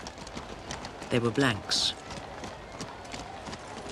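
Horse hooves clip-clopping during a royal ceremonial parade, a steady rhythmic clatter running through the clip beneath a man's speech, with a brief louder burst of voice partway through.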